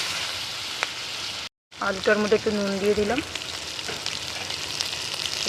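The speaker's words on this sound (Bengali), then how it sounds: "এবার মাছ ভাজার তেলটার মধ্যে আমি আলুগুলোকে লাল লাল করে ভেজে নেব।" Potatoes fry in oil left over from frying stingray, sizzling steadily up close. A voice talks over part of the frying, and the sound cuts out for a moment near the start.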